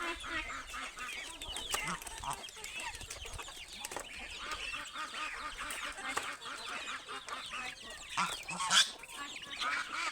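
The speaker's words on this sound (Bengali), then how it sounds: "এই যে দেখুন আমি এই খাবারগুলো এখন হাঁস মুরগিগুলোকে দিয়ে দিলাম" Ducks and chickens crowd around feed, with continuous honking, clucking and squawking from the flock filling the clip, a louder burst of calls near the end.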